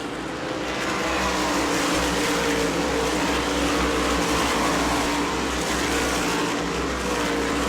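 Race cars at New Smyrna Speedway during World Series racing roar around the track in a loud, sustained engine drone that holds steady with slight swells as the cars pass.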